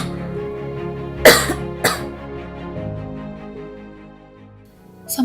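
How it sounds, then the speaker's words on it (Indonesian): A woman with COVID-19 gives a dry, phlegm-free cough in two sharp close bursts about half a second apart, with quiet low humming in between and a final harsh cough at the end. "Setiap kali bercakap batuk keluar dan batuk kering dan tidak ada kahak"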